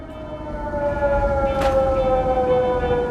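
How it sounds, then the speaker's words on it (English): A radstorm siren in Fallout 4's Sim Settlements 2 wails as a long, steady tone that swells and holds, with a brief burst of noise partway through. "Radstorm siren"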